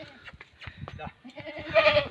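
A goat bleats loudly near the end, following scattered rustling and soft voices close by.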